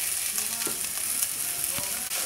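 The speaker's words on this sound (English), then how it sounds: "first we're going to cook the sausage a little bit" Sausage sizzles steadily in a pan over a moderate flame, a close, dense hiss of frying fat with no voices.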